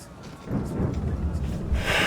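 A thunderstorm rumbles at sea in Assassin's Creed III, a low, continuous roar of thunder and rain that swells toward the end, with no talk over it.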